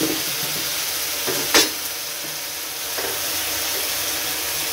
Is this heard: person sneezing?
no